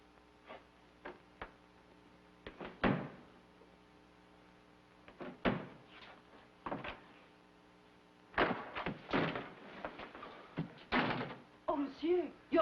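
A door in an old television western is forced open with a series of heavy thuds, bangs and slams, some close and loud, with pauses between bursts; people speak briefly near the end.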